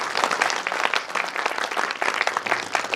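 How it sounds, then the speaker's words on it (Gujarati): An audience at a Gujarati book launch event bursts into applause. Many hands clap in a dense, steady patter for the full few seconds, with no voices above it. "બેન માટે જોરદાર તાળીઓ થઈ જાય"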